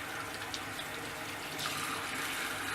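Tap water runs steadily in a sink while brushes and hands are rinsed, a continuous close splashing hiss with small spatters and a slight swell partway through.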